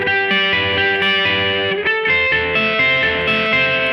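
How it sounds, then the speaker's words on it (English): Distorted electric guitar picking triads with palm muting, chords changing in steady succession, with a chorus-like effect and a loud, close, sustained sound. "I'm using a little bit of palm mute, because with distortion"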